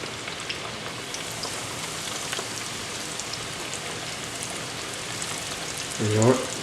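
Pork pieces fry in hot oil in a wok with a dense, steady crackling sizzle close by, ending in a brief louder surge.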